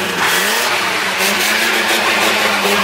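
A car engine revs hard and steadily while the car sits stuck on ice, its loud, strained drone rising and falling over nearly three seconds with no talk.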